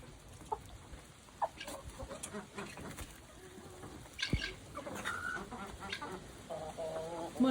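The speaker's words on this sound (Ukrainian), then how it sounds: "маємо два півника, наче вони миряться" Two roosters clucking and calling outdoors amid faint farmyard background noise, with brief sharp sounds scattered through.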